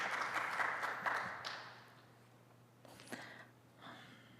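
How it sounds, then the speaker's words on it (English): Applause at an Asia-Europe environment forum conference: a modest round of clapping from the audience, fading after a couple of seconds, followed by faint room noise and scattered sounds. "let's give a round of applause to her."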